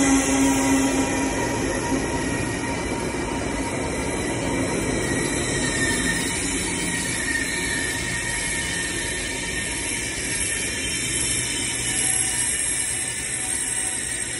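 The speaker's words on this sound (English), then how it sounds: "That's the bullet train." A high-speed bullet train in China rushes past nearby, a loud steady roar of wheels on rails with a high metallic whine, continuous throughout.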